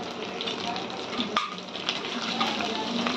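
Ginger-garlic paste frying with browned onion in a pan for a jackfruit vegetable dish, a moderate crackling sizzle with a sharp stirring knock and some faint background voice.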